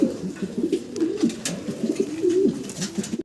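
American pigeons, called American saint pigeons, coo continuously up close, with low rolling throaty warbles overlapping one another in a steady chorus, no talking.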